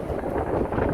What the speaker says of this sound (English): It's windy, I cannot say much